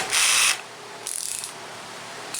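An electric drill with a 5/16 deep well socket runs in two strong bursts and starts a third while removing bolts from a Craftsman pressure washer, whirring loudly up close with no talking.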